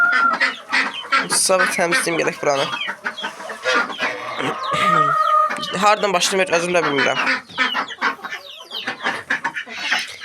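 Chickens, geese and ducks clucking and calling in a farmyard poultry pen, mixed with a voice talking over the birds throughout.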